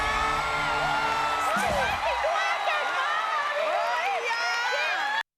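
A studio audience at the Thai TV show Mask Singer 12 applauds and cheers for a performer. Loud, sustained high-pitched screams and whoops ride over steady clapping and continue until an abrupt cut.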